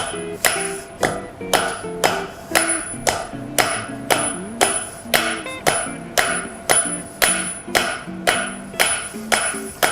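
A hammer strikes hot steel on an anvil while a point is forged, ringing blows in a steady rhythm of about two per second, close and loud, with no talk.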